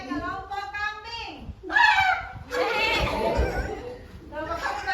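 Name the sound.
children imitating a goat bleating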